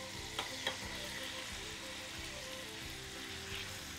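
Large shrimp hitting hot butter in a pan set up a steady, close sizzle that continues without a break, with a few sharp crackles and pops from the pan. There is no speech.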